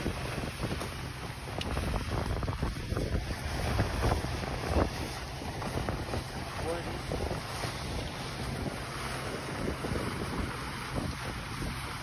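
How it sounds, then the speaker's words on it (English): A gigantic windstorm roars in constant, loud buffeting gusts that batter the microphone, with rushing noise that never lets up throughout. "a gigantic windstorm came out of nowhere"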